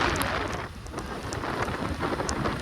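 Heavy rain pours down steadily with gusty storm wind noise while riding a swaying motorbike, a dense continuous roar close by, with a few brief sharper drops.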